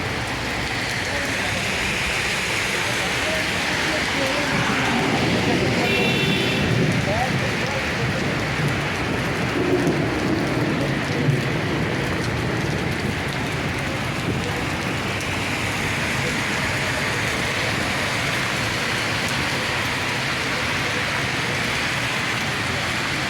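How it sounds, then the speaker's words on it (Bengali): Heavy rain pours steadily in Riyadh, Saudi Arabia, a dense, continuous hiss of drops drumming on surfaces close by, with a few faint voices and scattered clatters underneath. "প্রচুর বৃষ্টি হইতেছে। সৌদি আরব রিয়াদের বৃষ্টি।"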